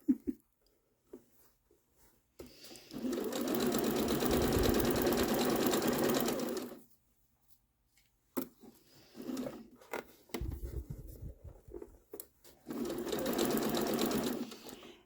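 A sewing machine stitching a doll quilt whirs in close bursts, with a long run, a short backtack stretch, pauses with small clicks and handling noises, then another steady run.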